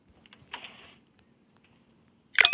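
A few clicks of old keyboard keys pressed in the Roblox horror game Doors, a short burst early on and a louder, brighter cluster at the end, close and fairly faint with no talk.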